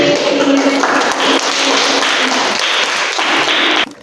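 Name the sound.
class applauding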